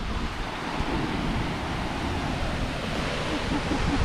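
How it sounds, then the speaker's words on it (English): Ocean surge at the Toilet Bowl rock pool in Hawaii, a loud continuous roar of water churning in and draining out, with heavy wind buffeting the microphone throughout. "there's a big surge of water that comes in and then it rushes back out"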